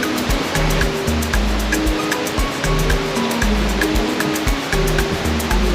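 Water features flow inside a humid indoor rainforest greenhouse at the Eden Project, giving a continuous rushing and splashing that stays loud and steady, with no voices.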